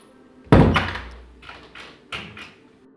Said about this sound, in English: He slammed the door and switched on the light.